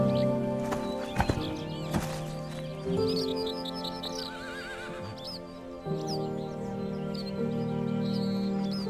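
Dülmen wild horses in a herd with a newborn foal: a loud neigh and whinny rises over soft hoof clops, with birds chirping faintly around the open pasture.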